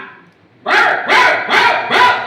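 A voice imitates a dog barking: four loud, evenly spaced woofs right up close, following a brief quieter lead-in.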